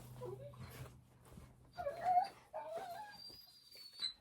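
Dogs whining and yipping indoors, several high whimpers and short yelps in uneven bursts, moderately close, with faint background noise.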